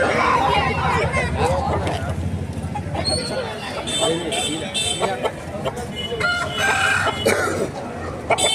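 A country rooster crows at a native chicken market in Eluru. Hens cluck around it, and a steady crowd babble and faint voices run underneath the whole time.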